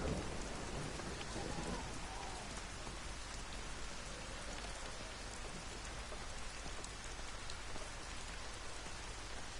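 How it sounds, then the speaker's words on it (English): Heavy rain in a video game (Everybody's Gone to the Rapture) pours steadily, a constant close hiss of drops, with faint low rumbling mixed in underneath. "Stop raining."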